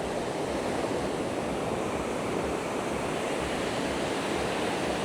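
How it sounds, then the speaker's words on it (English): Rough, unusually high sea waves break along Da Nang beach in Vietnam, a dense, constant roar of surf mixed with wind buffeting the microphone, steady throughout with no voices. "Unusually wavy and rough sea."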